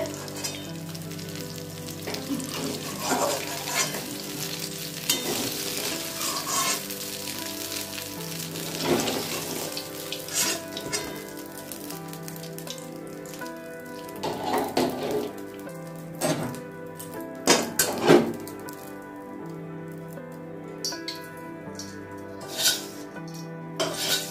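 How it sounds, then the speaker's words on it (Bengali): Moong dal puli pitha frying in oil, a continuous sizzling hiss with spatula scrapes and metallic clinks of pan and utensils scattered throughout, louder clatter toward the end, with no talk. "আমার পিঠেগুলো সব ভাজা হয়ে গেছে"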